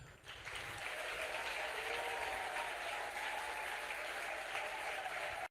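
A church congregation applauds the Lord with dense, continuous clapping that holds at a steady level throughout, then stops abruptly at the end.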